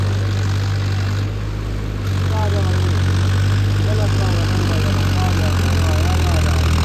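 A Swaraj 855 or Farmtrac 60 tractor engine labours under load in a tractor tug-of-war, a loud, steady, throbbing drone throughout with faint voices in the background.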